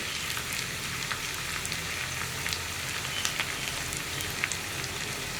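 Onions frying in a pan for Kerala parippu curry, a steady soft sizzle and crackle with scattered small pops, even and close, with no voices.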